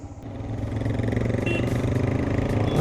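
Motorcycle riding along a narrow mountain road near Khajjiar in Himachal Pradesh, a close, steady pulsing engine drone with rattles that builds slightly louder through the clip.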